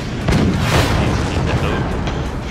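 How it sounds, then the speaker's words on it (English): A missile launch in the video game Forts gives a loud, dense boom with a rumbling roar that carries on throughout, booming and crackling with no gap. "I shot my missile."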